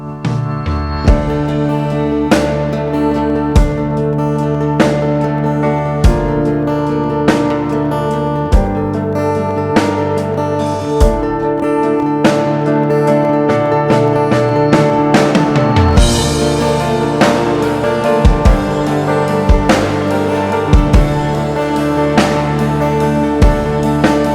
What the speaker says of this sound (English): The drum kit that I've used here is Native Instruments Abbey Road Modern Drums